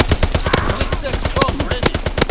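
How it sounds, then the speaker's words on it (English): Rapid automatic gunfire in a Call of Duty WWII team deathmatch on an Egypt map, dense bursts of sharp shots pounding steadily and loud throughout with faint game voice chatter beneath. "We have tactical advantage. Keep firing."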